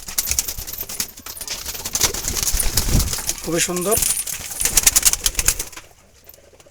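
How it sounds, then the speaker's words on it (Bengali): Jalali wild pigeons kept on a farm give a short, low throaty coo midway, heard close up among rustling and light clatter while a person talks. "কবুতরগুলো"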